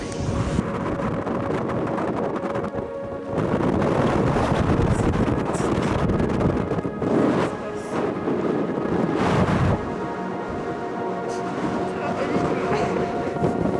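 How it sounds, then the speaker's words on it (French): Strong wind gusting through a cold mountain valley on the Tour du Mont-Blanc, a loud, steady rumble of buffeting against the microphone with surging gusts throughout. "Là, il y a du vent."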